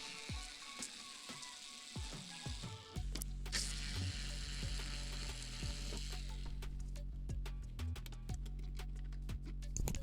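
Small mechanical clicks and ratcheting from screws being backed out of a vintage guitar amplifier chassis, close and fairly quiet over a steady low hum, with scattered sharp taps of metal throughout.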